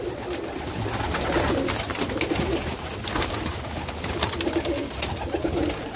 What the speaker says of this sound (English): Hey guys, that's my birds.